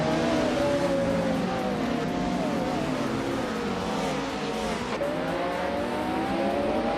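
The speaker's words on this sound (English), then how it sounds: "the race is underway at Circuit Gilles Villeneuve Retro, and leading the pack is Naive in a classic 1989 Ferrari F40 competition" Race cars, including a classic 1989 Ferrari F40, roar around Circuit Gilles Villeneuve Retro in a racing video game, with loud continuous engine whine that rises and falls in pitch as the cars accelerate and shift.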